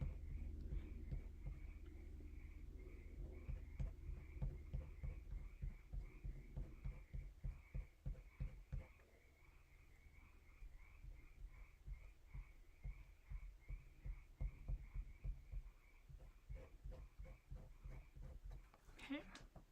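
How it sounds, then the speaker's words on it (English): Frogs croak from a pool outdoors in a steady, rapid pulsing chorus that carries throughout, with some faint talk in the background. "those frogs are having an amazing time out there in that pool."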